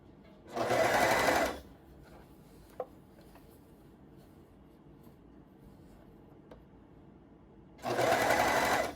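A serger stitching a garment sleeve seam runs in two loud, even bursts of about a second each, separated by a quiet pause with faint handling clicks as the fabric is readjusted.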